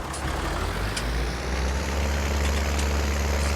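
A windrower engine in Farming Simulator 19 drones steadily with a deep, continuous low rumble and broadband hiss throughout, close and fairly loud, with faint intermittent higher tones over it.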